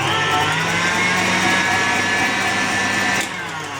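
Electric hand mixer beating vanilla extract into eggs whipped to the ribbon stage for a sponge cake, a steady whirring motor drone that holds evenly for several seconds, then drops slightly in level near the end.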